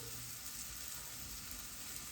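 Crispy garlic frying in a pan for a spring detox salad gives a steady, dense sizzle and crackle, close and continuous with no talking.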